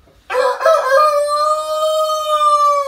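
A blue Faverolles-type rooster in a poultry breeding pen gives a loud, close crow that holds steady for over two seconds, with no clear hen clucking audible.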